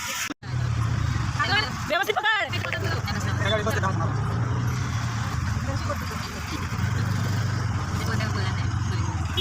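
An auto-rickshaw engine drones steadily from inside the moving vehicle, a low rumbling hum with road noise beneath people talking, with a sharp knock near the start.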